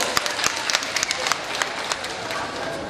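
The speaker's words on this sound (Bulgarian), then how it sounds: "Аплодисменти за него." Audience applause for a contestant at a Grand Flora flower-themed competition, a brief burst of scattered crowd clapping with sharp individual claps, mixed with voices.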